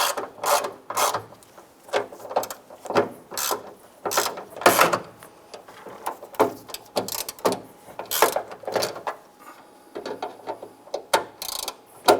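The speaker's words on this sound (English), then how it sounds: "Get our bolts started by hand first, and then we'll go ahead and snug those down" Ratchet tightening the hood latch bolts on a 2002-2008 Dodge RAM, a run of quick close-up clicking bursts in uneven rhythm with short pauses between strokes, no talking.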